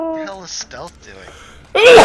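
A loud, sharp sneeze bursts out at the very end, right after a short stretch of voiced speech, in story-mode dialogue from the game Battleborn.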